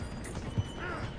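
A horse galloping in Red Dead Redemption 2, rhythmic hoof clip-clop with a brief whinny, faint and mixed under game sounds and a voice speaking.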